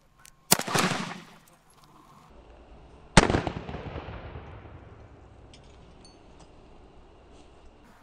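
An Arsenal SAM 7SF AK-pattern rifle fires 7.62x39 rounds at body armor outdoors, two loud, sharp shots a few seconds apart, each followed by a long rolling echo.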